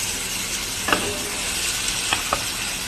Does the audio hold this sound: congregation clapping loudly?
no